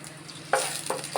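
Ginger and garlic frying in a pan of oil for egg noodles, a soft sizzle with two short bursts of stirring scrape, close and fairly quiet.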